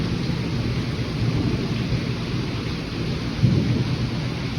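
Heavy rain pours steadily with low rumbles of thunder, a dense, continuous wash of sound with a deeper thunder swell near the end, outdoors on a rural smallholding.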